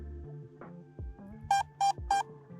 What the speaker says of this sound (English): And then I can press on start flashing and beeping.